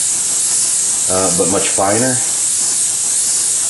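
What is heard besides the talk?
airbrush spraying Createx paint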